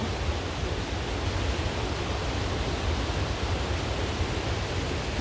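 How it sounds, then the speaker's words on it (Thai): A large forest waterfall gives off a steady, dense roar of rushing water that stays even and continuous with no break. "ได้ยิน เสียง น้ำตก โอ้โห น้ำตก นี่ งาม น้ำตก ใหญ่ ขนาด"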